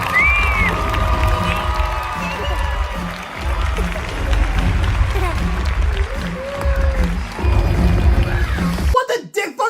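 A movie-theater audience at a kids' film screening cheers and claps, with a broad crowd roar and scattered shouts under a voice talking over it, cutting off abruptly near the end.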